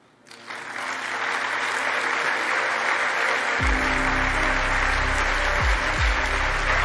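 Sustained audience applause at the Congreso Futuro 2023 conference following a presentation, steady and dense throughout, with a low rumbling tone entering partway through beneath the clapping.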